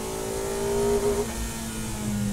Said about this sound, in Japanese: ホイールスピン大きいんだよ。